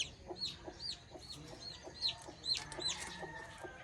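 A Rhode Island Red hen clucks in quick, repeated, fairly close calls with short gaps, a few louder bursts among them and faint background noise underneath.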